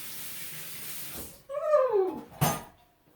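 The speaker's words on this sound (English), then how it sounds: "so I'm gonna wash my hands." Tap water runs into a kitchen sink for about a second while hands are washed, followed by a short rising squeak and a brief splash and clatter at close range.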